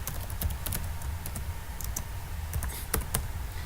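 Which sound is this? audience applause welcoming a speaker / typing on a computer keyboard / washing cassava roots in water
typing on a computer keyboard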